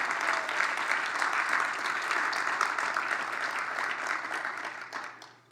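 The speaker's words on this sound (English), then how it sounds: "I think absolutely deserves a round of applause." Dense, steady applause from a conference audience fills the room at moderate level, sustained throughout before fading off at the very end.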